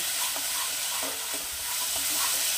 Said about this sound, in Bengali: এবার মশলাটা একটু কষিয়ে নেব।